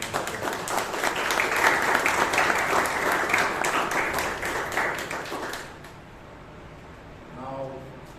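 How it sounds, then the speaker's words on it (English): Applause from the audience at a Toastmasters club meeting in Bangalore: steady, moderately loud clapping for several seconds that stops abruptly, then a brief voice starts speaking. "Give a big round of applause to the Secretary."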